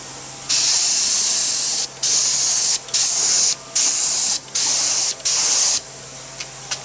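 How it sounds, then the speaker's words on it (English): A spray gun lays a light, quick-drying mist coat of finish on an Art Deco clock case, in six loud, steady hissing bursts of about a second each with short pauses between them, then quiet. "So I'm just putting on a mist coat first, let that tack off, and then I'll give it a second fuller coat."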